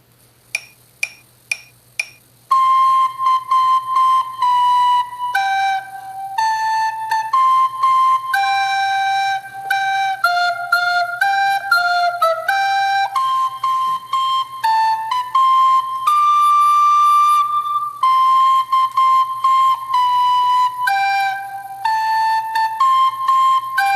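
Recorder music playing the upper voice part of a piece for a fourth-grade class, opening with a few short plucked notes and then a continuous, clear, whistling solo melody of held and stepping notes, with no talking.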